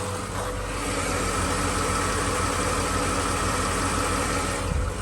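A Ford F-series pickup engine idles steadily up close with a dense, rapid ticking layered over the low rumble, continuous and fairly loud with no talk.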